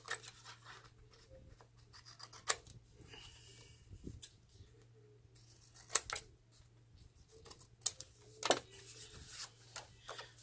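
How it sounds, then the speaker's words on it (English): Scissors cut paper along a pattern, giving scattered quiet snips and crisp clicks at irregular intervals against near silence. "using this pattern, I am going to cut in here"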